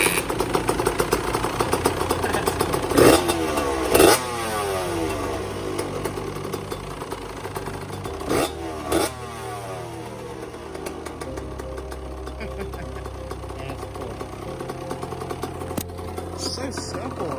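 A 2002 Suzuki RM85 dirt bike engine fires and runs close by, putting and rising in uneven revs with sharp throttle blips and a few loud bangs, steady idle chatter in between, with people talking.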